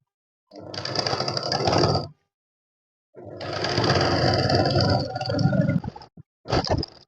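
A sewing machine stitches plazo skirt panels together in two long, steady runs separated by a pause, then a short final burst; close and loud with no talking.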